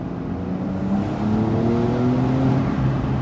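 Porsche 911 Carrera GTS (992) in Sport Plus mode accelerating, its exhaust a steady engine drone with harmonics rising in pitch through the run, heard from inside without talk.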